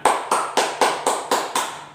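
A quick run of seven even hand claps, close and bright with a slight room ring, used as a signal in a children's classroom activity.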